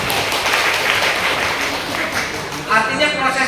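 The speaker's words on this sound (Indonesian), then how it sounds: "tepuk tangan buat Bapak dan Ibu" A crowd of school staff at the closing of a school funding mentoring program claps loudly in a close, continuous wash, with a voice seeming to carry over the applause.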